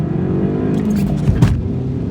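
A Volvo V40 engine drones steadily from inside the cabin while accelerating, with a low continuous rumble and a couple of short bumps or knocks near the end.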